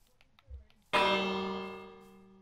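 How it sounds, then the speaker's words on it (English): A bell placed and rung in Minecraft gives one sharp, loud metallic strike with a long, clear ringing tail that slowly fades, after a brief low thump. "Then a bell there."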